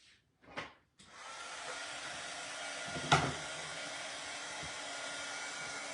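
A hair dryer blows on a craft item after a couple of brief clicks, then runs as a steady, continuous whoosh nearby for several seconds, with a small knock partway through.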